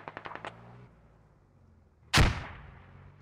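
A smoke artillery barrage landing in a tactical shooter game: a quick patter of distant small reports, then a single heavy deep boom that rolls off into a lingering rumble.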